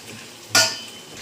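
Potatoes tipped into a pot of frying goat meat, one sudden sizzling splash that fades over a second in an otherwise quiet kitchen.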